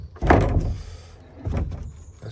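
A swollen garage door in a newly built garage is opened and closed, giving a nearby scrape and knock, then a second, softer bump about a second later.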